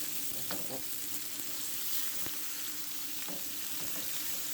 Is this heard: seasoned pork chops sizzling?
yes